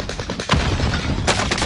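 Hostile gunfire in Call of Duty, with repeated sharp shots and bursts cracking through a dense, noisy battle mix, including a louder volley near the middle and another toward the end.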